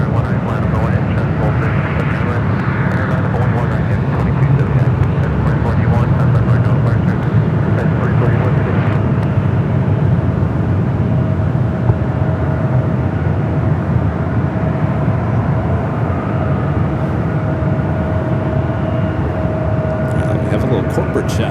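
Corporate jets at San Francisco airport, a continuous loud jet engine roar with a steady whine, heard from a rooftop vantage while a voice talks over it.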